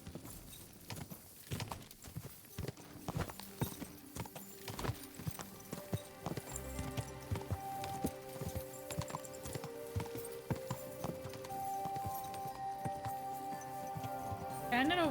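Rhythmic horse hooves clip-clop along with game-like sound effects and music tones from Kingdom Come: Deliverance II, while a voice talks over them.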